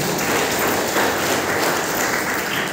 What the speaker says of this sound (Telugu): మనందరం కూడా చప్పట్ల ద్వారా మన యొక్క ఆనందం తెలియజేస్తాం